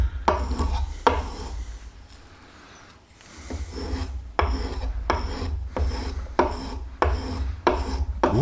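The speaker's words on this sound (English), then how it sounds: "It's cutting extremely fine shavings" A small mini compass plane takes fine wood shavings in a series of short, crisp rasping strokes at close range, with a brief quiet pause partway through.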